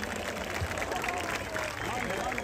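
Applause from a concert audience honoring a wind band, dense and continuous, mixed with crowd murmur and voices throughout.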